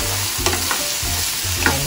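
Stirring and tossing Pad Thai ingredients together in a sizzling pan, with steady frying hiss and several scraping strokes of a utensil against the pan, close and moderately loud with no talking.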